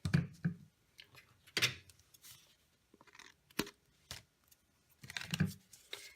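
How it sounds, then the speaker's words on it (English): Close, crisp scissor snips trimming the end off a paper strip for a handmade Stampin' Up! Easter card, several short cuts with light paper rustles between them in a quiet room, no talk. "I'm just going to cut off the end part"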